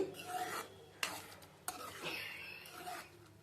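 Batani chaat of cooked dried peas, sprinkled with coriander, is stirred in a pan, giving faint, close scraping and rubbing strokes with a couple of soft clinks, quiet and without speech.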